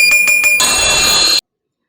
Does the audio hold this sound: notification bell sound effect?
yes